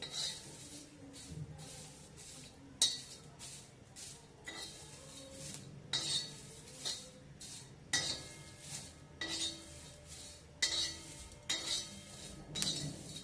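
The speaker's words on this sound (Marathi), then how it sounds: "हे बघा आता छान तळतळ आवाज येतोय" Wheat ears being roasted and turned over in a pan, giving repeated soft scraping and rattling strokes against the pan at a steady rhythm, quiet and close, with faint crackling between the strokes.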